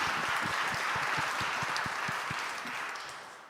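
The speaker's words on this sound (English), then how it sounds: "Another round of applause." Audience applause at a symposium panel on resentencing legislation, steady dense clapping throughout with some distinct individual claps, tapering slightly toward the end.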